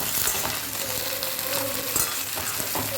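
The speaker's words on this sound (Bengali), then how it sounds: "রান্না বেগুনটাও ভালো করে ভেজে নিচ্ছি আর দিয়ে দিচ্ছি তার সাথে কয়েকটা চেরা কাঁচা লঙ্কা" Eggplant frying in oil with slit green chillies, a steady, close sizzle with light stirring that continues throughout.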